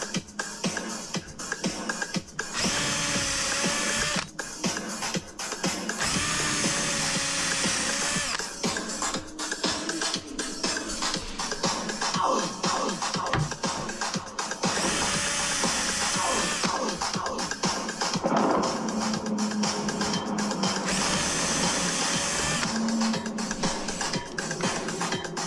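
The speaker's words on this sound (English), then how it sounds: "make sure the drill is vertical, and you put force straight down. You want to make sure that the drill bit is on the fast speed." Power drill on fast speed boring mounting holes into a ski, held vertical with downward force. Several bursts of high whining drilling, separated by quieter handling and shuffling noises, stay close and moderately loud throughout.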